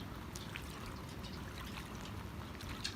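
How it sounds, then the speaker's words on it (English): Rainwater drains off a flat roof during an average rainstorm, a continuous outdoor trickling and pouring wash with scattered drips, steady and fairly close, with no talking. "This water draining from our roof is called stormwater"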